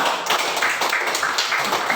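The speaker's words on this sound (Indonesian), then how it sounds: "untuk itu tepuk tangan buat Ayu ya" A class of students claps for a classmate after a basic athletics lesson on walking, running and jumping: a short burst of close, fairly loud rhythmic hand claps.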